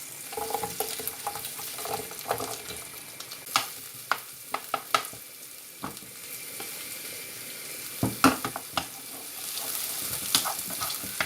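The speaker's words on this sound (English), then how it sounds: "And then we're going to cook these onions off in the juices from the meat." Onions fry in the juices left from cooking pork, producing a soft steady sizzle broken by frequent sharp clacks and scrapes of a utensil stirring the pan.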